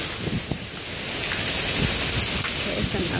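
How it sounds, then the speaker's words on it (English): Heavy rain pours down in Singapore as a steady, dense broadband hiss that stays loud and continuous throughout, with faint scattered voices in the background and some wind buffeting. "This is a heavy rain."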